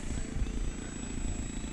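A Dynam Cessna 188 crop duster RC airplane with a 1500mm wingspan flies nearby, its electric propeller buzzing steadily with slight pulsing.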